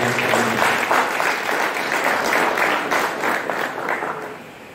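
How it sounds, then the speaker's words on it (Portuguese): A church congregation bursts into loud applause during a sermon, a dense crowd of hands clapping with a close, bright texture that carries throughout and eases slightly toward the end. "Dá uma salva de palmas para Ele."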